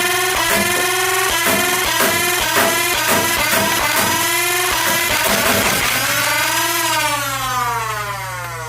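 Mini Stryfe foam blaster running on AA batteries with used Worker darts: a loud, steady flywheel whine with clattering bursts of dart firing, then a slow rising rev-up whine near the end, with no talking.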